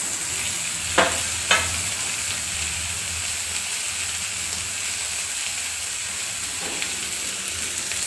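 Chopped tomato going into a pan of sautéed onions for a South Indian capsicum palya, sizzling steadily with a couple of sharp spatula scrapes early on and another later, close and unbroken by talk.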